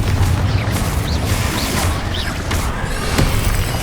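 Confringo spell blasts and other combat effects in Hogwarts Legacy, a loud continuous barrage of booms, crashes and whooshing magic, with no speech heard.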